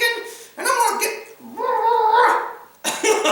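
A cat meows in three drawn-out, wavering calls, close and fairly loud, separated by short pauses, with no other sounds around them.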